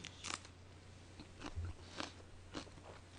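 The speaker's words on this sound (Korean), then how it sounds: "혹시 마이크에 쩝쩝 소리 들어가고 있죠?" Quiet close-up chewing of pork galbi with soft crunches and wet smacks in an uneven rhythm, no talking.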